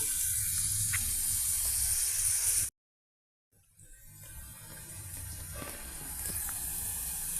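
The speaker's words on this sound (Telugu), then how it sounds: "ఆయిల్లో ఒక పెద్ద సైజు వెల్లుల్లిపాయ పీసెస్ అండి, ఒక పచ్చిమిర్చి అండి, ఈ విధంగా అన్నీ ఫ్రై అవుతున్నాయండి" Large pieces of onion and a green chili fry in hot oil with a steady, bright sizzle. The sizzle cuts out completely for about a second, then comes back quieter and builds again.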